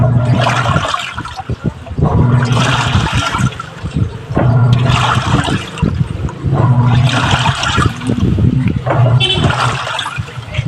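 A Toshiba top-load washing machine agitates a load in water after a capacitor upgrade, sloshing and churning in steady surging cycles with a low motor hum, loud and close with no talk.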